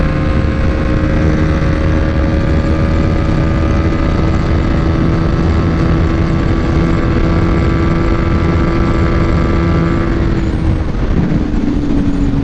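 A BMW G310 R single-cylinder motorcycle accelerating through its gears, the steady engine drone loud and close. The pitch holds long and climbs smoothly, then shifts near the end, with no talking over it.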